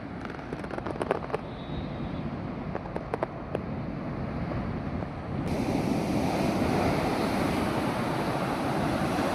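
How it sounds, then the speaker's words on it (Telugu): Ocean surf at Sagar beach in Visakhapatnam in the early morning, a steady broad wash of waves with wind noise that grows fuller and louder partway through, no voices. "ఈ యొక్క కెరటాలు మనసుకి ఎంతో ఆనందాన్ని కలిగిస్తున్నాయి."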